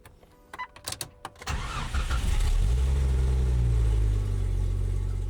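An old Jeep with a death-wobble shake starts and pulls away on a test drive: a few clicks and knocks, then the engine catches and settles into a loud, steady low rumble close by.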